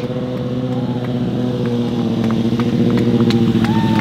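Stunt motorcycle engine at a Czech stunt-riding show by rider Martin Krátký, holding a steady, loud, close droning note for about four seconds with slight rises in pitch and no talk.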